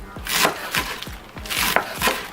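A knife rough-chops onions on a cutting board in a quick run of about seven sharp, close knocks, alone with no talking.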